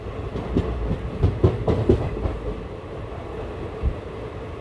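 The Circar Express train rolls steadily along the rails between Bhimavaram and Chennai, its rumble broken by rhythmic clacking as the wheels pass over track joints, close and continuous.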